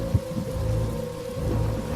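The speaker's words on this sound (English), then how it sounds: "all you hear is the raging storm outside" Heavy rain pours steadily in a raging storm outside, with low rumbling thunder rolling underneath; no one speaks.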